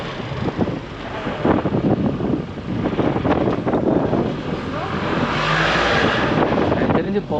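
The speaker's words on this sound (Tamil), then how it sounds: "சாப்பிட்டு கிளம்பியாச்சுங்க வண்டி" A car pulls away and drives along a mountain road in Sikkim, giving a steady, loud engine drone mixed with heavy wind rush that swells toward the end, with indistinct voices faintly underneath.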